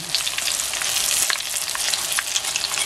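Eggplant fingers fry in a pan with a loud, steady hiss and crackle that holds evenly throughout, with no voices over it.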